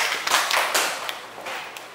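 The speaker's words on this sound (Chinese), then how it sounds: "掌声啊，谢谢。" An audience applauds at a school geology presentation about a volcanic island in Penghu, with scattered, uneven claps that peak early and then thin out into sparse taps.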